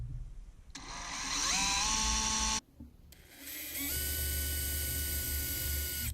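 An electric drill bores tuner holes in a bass guitar headstock, making two sustained whining runs with the motor pitch climbing as the bit bites, separated by a short pause, close and steady.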